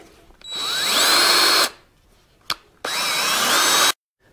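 A drill spins a hone inside the bores of a Caterpillar D4 transmission case cover in two bursts of about a second each, a whirring, grinding whine split by a brief clack.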